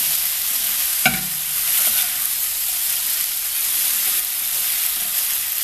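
Zucchini stir-fries in a hot pan for a spicy Korean side dish, with a loud, steady sizzle throughout and one sharp knock of a utensil early on.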